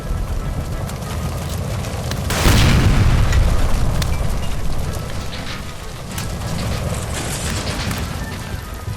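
A gas line by a stove explodes in the video game L.A. Noire after being shot: one loud, heavy blast lands early, then rolls off into a long rumble over steady background noise.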